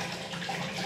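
Tap water runs steadily into a basin, a continuous close splashing hiss with no talk.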